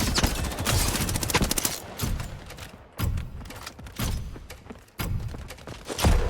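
Gunfire in the video game Highguard: rapid bursts of shots in several volleys separated by brief pauses, loud and close, with no talk over them.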